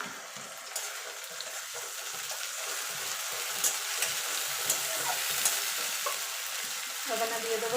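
Ginger garlic paste frying with browned onions in a pan for an egg and spinach dish: a continuous close sizzle and crackle with repeated soft scraping stirs, no talking.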